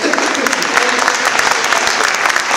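Dense, loud applause from an election event audience, a steady wash of many hands clapping at close range throughout.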